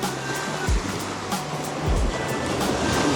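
Steady rushing autumn sea waves washing in continuously at the shore, with low thumps of surf breaking now and then; no voices.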